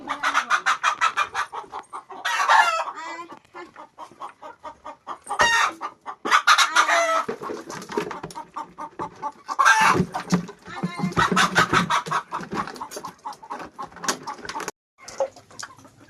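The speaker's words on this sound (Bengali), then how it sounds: "হাঁস মুরগিদের খেতে দেবো।" Chickens cluck loudly and continuously at close range while chickens and ducks are fed at a village home, with overlapping calls and busy rhythmic clucking throughout.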